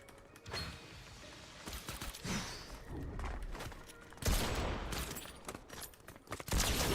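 Gunfire in Fortnite Battle Royale Chapter 6 Season 2, with several sharp shots and bursts scattered among clicks and mechanical gun handling, the loudest blasts landing near the end.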